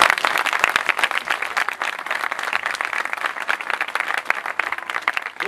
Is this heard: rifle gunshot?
no